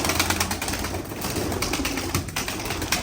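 Pigeons coo and flutter amid a dense, noisy background of bird sounds, with no talking.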